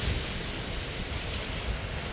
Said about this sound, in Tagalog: Yung alon lang yung maingay